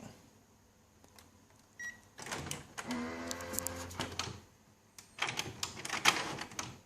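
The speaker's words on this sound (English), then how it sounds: "so I'm going to just finish the head clean, and I'm going to print a nozzle check." An Epson PX inkjet printer prints a nozzle check after a head clean, with mechanical whirs, clicks and a carriage sweeping back and forth in separate bursts, quiet pauses between them, close and moderately loud.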